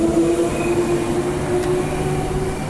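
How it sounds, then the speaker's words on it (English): A metro train pulls out of Ashfield station with a loud, steady rumble and a rising whine of motors, heard close from the platform. "So there goes the train."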